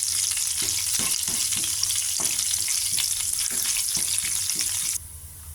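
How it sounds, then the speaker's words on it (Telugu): Steady, crackling sizzle of cumin, mustard seeds and chilli pieces frying in hot oil, with faint scraping stirs, cutting off abruptly near the end. "పోపు వేగింది"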